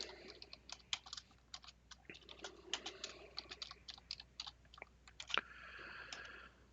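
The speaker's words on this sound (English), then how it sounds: "So I'll type a message." Quick, irregular clicks of typing on a computer keyboard while writing C++ code on a Windows PC, soft and close, alone without talk.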